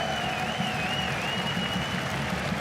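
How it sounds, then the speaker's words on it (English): Sustained audience applause fills a large arena at a live Counter-Strike 2 major tournament playoff, a dense, steady wash of clapping and crowd noise heard from a distance. "give him a big round of applause for standing here and doing this"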